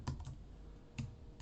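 Quiet keystrokes on a computer keyboard, a few separate clicks typed in short bursts with pauses between them, close by and alone.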